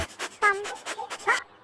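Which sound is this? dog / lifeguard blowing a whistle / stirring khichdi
dog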